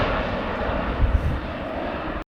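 Airbus A400M military transport aircraft performing a flying display at an air show, its turboprop engines producing a loud, steady, broadband roar that holds throughout and then cuts off abruptly.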